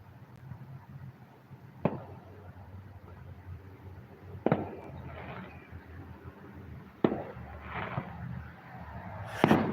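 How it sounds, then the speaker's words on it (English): Fireworks popping outside at a distant party: four sharp, separate bangs spaced a few seconds apart rise over a low, steady background hum. "Who is popping fireworks?"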